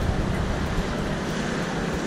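Ocean surf at the port in Naples, Italy, a steady loud wash of waves and wind noise with no breaks.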